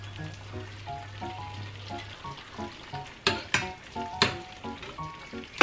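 Chicken adobo sauce sizzles and bubbles steadily in a pan, with a low hum underneath and a few louder stirring clatters partway through; no one speaks.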